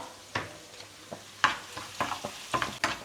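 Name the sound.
stirring onions frying in a pan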